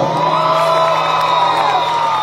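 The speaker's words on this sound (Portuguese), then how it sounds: "salva de palmas para Paulinha, pessoal" Loud, steady crowd cheering and whooping at a live festival concert show, a dense wall of audience voices sustained throughout with no breaks.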